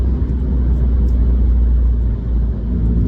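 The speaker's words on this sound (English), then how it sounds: "the exhaust and the other assorted car noises" Constant deep rumble of a car's exhaust and road noise inside a tunnel, loud and unbroken, with no voices.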